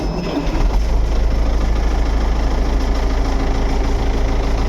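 An MTZ 892.2 tractor diesel engine catches and settles into a loud, steady low rumble with dense vibration, running continuously without a break.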